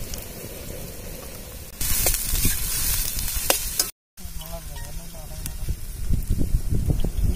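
Goat intestine fries in a pan with onion, green chilli and whole spices, a loud continuous sizzle close by that jumps up as ingredients hit the oil, with a brief cut and faint voices.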